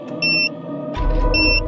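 A bomb timer sound effect gives two short, piercing electronic beeps with steady tones, one near the start and one at the end, separated by a low rumbling background noise.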